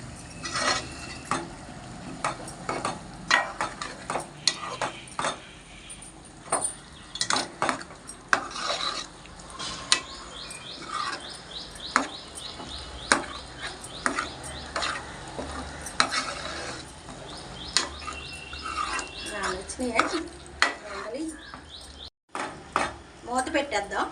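Prawn curry being stirred in a pan, a busy run of scraping spoon clatter against metal with a steady sizzle of frying underneath, close and fairly loud throughout.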